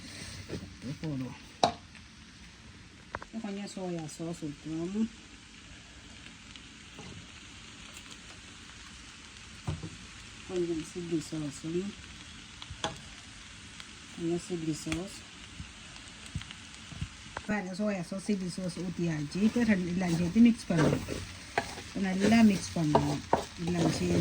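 Chicken kothu parotta being stirred and mixed in a pan with soy sauce and chilli sauce, steady scraping and tossing strokes over a low sizzle, with a voice talking at intervals throughout.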